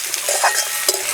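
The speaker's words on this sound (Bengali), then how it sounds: "উনুনের জাল কম করে দিয়ে 2 থেকে 3 মিনিট ভেজে নিলাম।" Pumpkin pieces fry in a pan over a low flame, giving a steady soft sizzle with light stirring scrapes and no talking.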